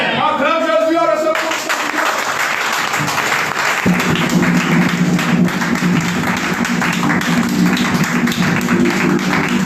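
Church congregation applauding during a Sunday worship service, steady dense clapping throughout, with a rhythmic beat and voices mixed in.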